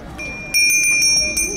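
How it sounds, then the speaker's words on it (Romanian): A horse bell rings at a horse fair in Gilau, Cluj, producing a series of bright, rhythmic metallic chimes over crowd chatter. "are un sunet bun clopotul"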